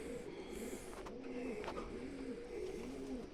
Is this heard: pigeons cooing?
yes